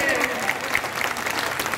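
Audience applause at a Hindi poetry recital, a dense wash of clapping that holds steady from start to finish, fairly loud and close, with no voices over it.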